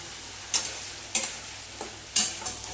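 Dried red chillies drop into a hot pan with ginger for a Bengali cabbage and fish-head rice dish, giving three sharp crackling bursts that fade quickly over a low steady sizzle.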